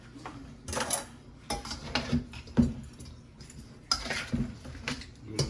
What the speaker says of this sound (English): We're gonna stir this thing.